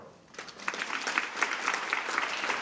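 After a brief quiet moment, a university audience at Portland State breaks into applause, a lively steady clatter of many hands that builds quickly and holds.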